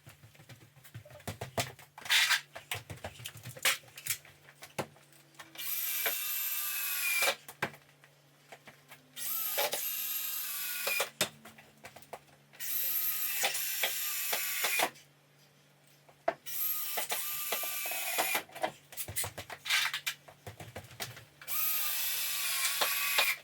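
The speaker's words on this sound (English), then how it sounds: "Now I'm just going to use some screws, screw into the beam to fasten it down, screw into the bottom plate with the cripple studs" On a load-bearing wall job, a power drill drives screws into a wooden beam and bottom plate in repeated bursts of whirring, each lasting a few seconds with short pauses between them, close and fairly loud.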